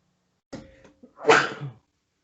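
A single close sneeze bursts out sharply in a quiet room during a casual podcast recording, with no other sounds around it.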